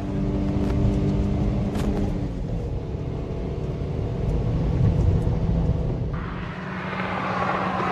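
A car brakes on counterfeit brake pads, heard as a continuous loud rumble of road and engine noise that holds steady, then shifts to a brighter hiss near the end as the vehicle slows.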